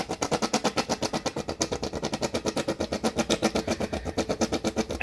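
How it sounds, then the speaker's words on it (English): Emoji-style whoopee cushions deflate in a long, steady, rapid flapping buzz, close and continuous, rasping like a rough-running motorcycle. "this is your standard whoopee cushion."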